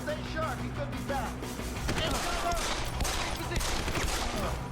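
Gunfire in Deus Ex: Human Revolution: a spread of shots crackling across a busy game soundscape, steady and fairly close, with voices and a low droning tone underneath.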